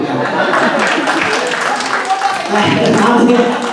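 A crowd at a Tamil debate session during the 2025 Muthamizh festival claps steadily in a loud, dense wash, with faint chuckles and voices mixed into the applause.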